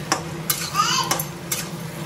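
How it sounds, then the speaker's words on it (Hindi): Drumstick curry paste is stirred and mixed in a pan, a close scrape and clink of a spoon against metal repeating in a steady rhythm over a low sizzle. "अभी इसको अच्छे से मिक्स कर देंगे"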